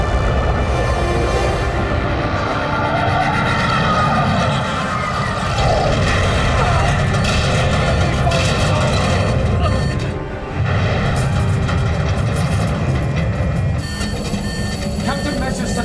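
Submarine torpedo launches in an action sci-fi thriller battle scene, heavy roaring rumble and low booms sustained throughout, with a brief dip near the middle, under dialogue.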